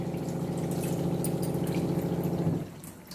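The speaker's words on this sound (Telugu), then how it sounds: "మటన్ ఉడకాలి కదా అందుకని యాడ్ చేస్తాం వాటర్ యాడ్ చేస్తాం" Water pours steadily into a pot of cucumber mutton curry for about two and a half seconds, a close, even gush that then cuts off abruptly.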